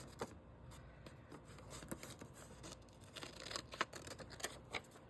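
Scissors trim a coffee-dyed paper journal card, giving a quiet, close series of irregular snips and paper rustles with no talk.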